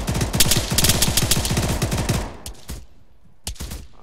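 Rapid bursts of 7.62 rifle fire in the military shooter ArmA 3, loud repeated shots in a fast rhythm for about two seconds, then a few isolated single reports after a brief pause.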